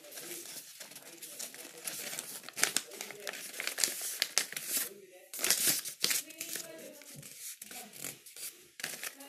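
Sheets of paper are folded and creased into a paper eagle, giving close, irregular crinkling and rustling bursts between quieter pauses.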